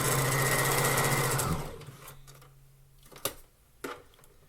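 A sewing machine stitching a dress hem runs loud and fast for about a second and a half, then stops, leaving a low hum and a couple of sharp clicks.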